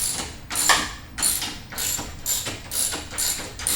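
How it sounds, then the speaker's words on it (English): Socket wrenches, a 19 mm on the nut and a 14 mm holding the bolt, working a swing-arm bolt on a 2019 Honda Monkey, giving repeated close metallic ratcheting bursts in an even rhythm with short pauses between strokes. "you need to use 2 socket wrenches, one with a 19 to capture the nut and a 14 on the other side to hold the bolt"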